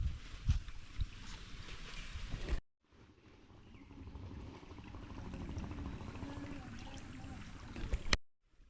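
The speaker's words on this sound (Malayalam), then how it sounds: "ആ പുഴ ഇങ്ങനെ ഒഴുകി വരുന്നതിൻ്റെ ഒരു ഭംഗിയുണ്ടോ" River water flowing past a village road in Idukki, a soft continuous rushing wash heard at a moderate distance, cut off briefly by two abrupt silences.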